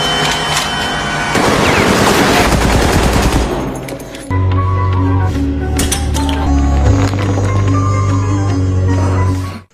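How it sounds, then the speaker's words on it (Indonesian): Loud bursts of rapid automatic AKM rifle fire in a video game, one long volley followed by shorter bursts and single cracks over a low droning background. "tembakan Vanessa asal bunyi, apalagi memakai AKM, wah berantakan."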